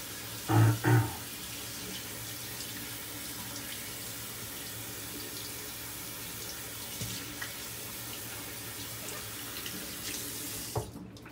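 Water from a kitchen tap runs steadily onto a soft shaving soap puck being rinsed, a constant close wash of flow with a couple of brief louder splashes near the start.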